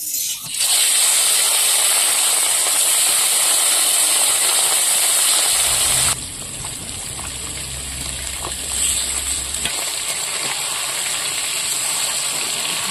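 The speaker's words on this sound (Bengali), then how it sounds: "মাছ ভাজা হয়ে গেছে সব, এবার এই কটা আমি তুলে নিচ্ছি যেগুলো বাকি ছিল।" Slices of katla fish frying in salted oil in a wok give off a loud, continuous hissing sizzle that drops to a softer, steady crackle about halfway through.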